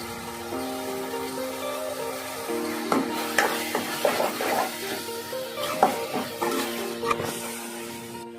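Puffed rice (mandakki) being stirred and mixed in a pan, with scattered scraping and clinking strokes of a spoon against the pan over a faint sizzle and a sustained tonal hum.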